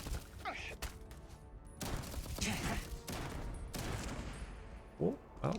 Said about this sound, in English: Let me actually rock the shotgun for a bit.